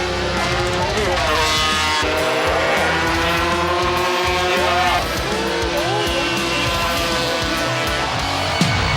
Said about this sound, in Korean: 오토바이 경기가 시작되고